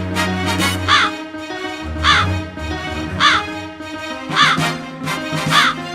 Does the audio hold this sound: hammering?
no